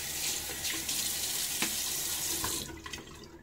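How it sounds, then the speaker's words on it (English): A bathroom tap runs steadily into a sink as a face is wetted before a shave, with splashing water that stops near the end. "Get my face wet again."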